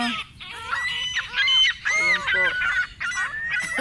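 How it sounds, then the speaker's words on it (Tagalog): A flock of hungry pigeons calls noisily at close range, a busy jumble of overlapping cooing and honking cries filling the whole stretch. "Ba't ang iingay nyo? Gutom na gutom na po kayo."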